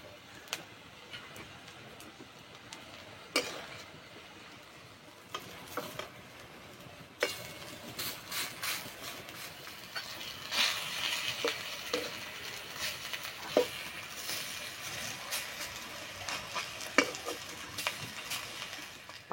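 Drumstick leaf fritters frying gently in oil, with intermittent stirring and scraping of a utensil against the pan; quiet, steady sizzle with sharper clinks scattered throughout, no talking.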